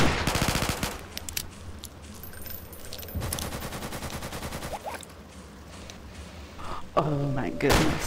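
Rapid bursts of automatic gunfire and single heavy shots ring out in the zombie shooter game Zombie Panic! Source, loud and dense across most of the stretch, with thuds and clanks mixed in and a player's voice talking over it.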